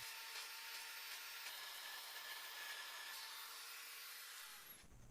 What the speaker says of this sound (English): I'm now moving on to a finger sander to finish it off.